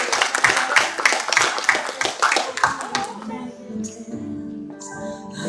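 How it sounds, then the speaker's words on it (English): A congregation at a Mother's Day church service claps for Reverend Mary, sharp individual claps in a lively uneven rhythm for about three seconds, then fading into quieter room sounds with faint voices. "Let's give her a round of applause."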